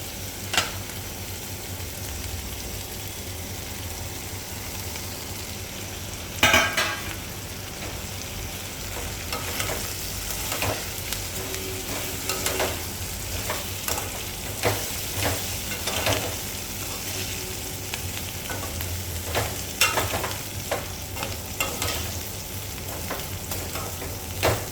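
Vermicelli (semiya) being stirred in a frying pan for upma, with a steady soft sizzle and repeated scraping stir strokes and occasional clinks of the utensil against the pan.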